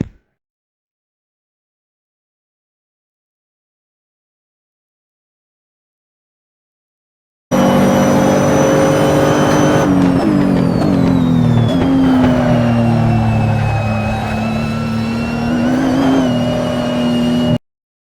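A car accelerating progressively out of a corner on a track, its engine note rising and holding loud and steady for about ten seconds after a silent opening, with pitch shifting as it drives through.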